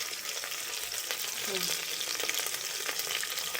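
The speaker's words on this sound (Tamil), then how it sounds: "அடுத்து நம்ம கட் பண்ணி வச்ச ஆனியன் இதையும் போட்டுக்கிறோம். போட்டுட்டு கொஞ்சம் கிளறி விட்டுக்கணும்." Chopped onions fry in oil for biryani while being stirred, making a dense, continuous close-up sizzle with soft spoon movements and no speech.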